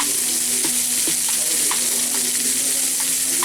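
Shrimp fry in a hot pan with a loud, continuous sizzle. Soft taps and scrapes from turning the pieces come through at intervals, with no talking.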